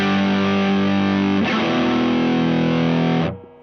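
Electric guitar played through a Berry Pedals PHAT rat-style drive pedal, giving a thick, distorted sustained chord that shifts to a second chord and then stops abruptly, loud and alone.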